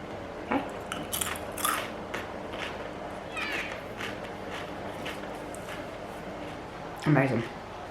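Homemade syn-free crisps, dry-fried, crunch in sharp, irregular bites close to the microphone, with a loud crackling crunch near the end and a few softer clicks between.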